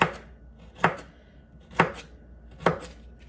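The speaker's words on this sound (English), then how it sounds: "So I'm gonna keep on slicing" Three crisp knife chops slice through carrots on a cutting board, evenly spaced about a second apart, close and distinct against a quiet background.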